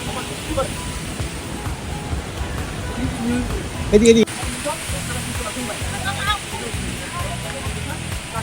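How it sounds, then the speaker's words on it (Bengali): A water fountain at KLCC in Kuala Lumpur rushes in a steady, broad splashing wash, with a person talking over it. "পানির ফোয়ারা"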